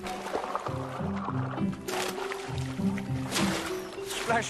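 Water is stirred and splashed by hand beside trained fishing cormorants, with close, irregular sloshing and gurgling against a low, droning background.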